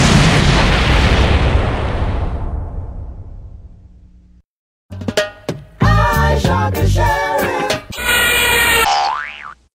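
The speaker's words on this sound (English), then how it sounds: "The error message is actually a bomb." Cartoon bomb exploding from a computer error message: a loud rumbling blast that fades out, a brief silence, then a burst of comic sound effects with boing-like bouncing tones.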